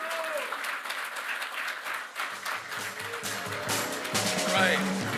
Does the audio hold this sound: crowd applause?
yes